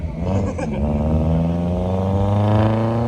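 A BMW E46 M3 engine running hard on a dyno, a loud continuous mechanical roar with steady harmonics that climb gradually as revs build, close and sustained without a break.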